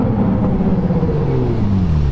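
Ferrari 458 V8 engine with an aftermarket exhaust, a loud close engine rumble with a falling pitch as it eases off, heard alone over about two seconds.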